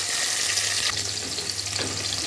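Onions and peppers frying in hot oil give a steady, dense sizzle that holds from start to finish at an even loudness, with a low hum underneath and no voices.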